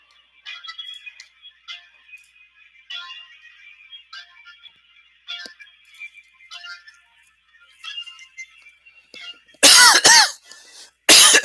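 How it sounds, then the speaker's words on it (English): Two loud, sharp coughs close to the microphone near the end, after a stretch of soft, tinkly electronic tones. "Sorry for the cough there."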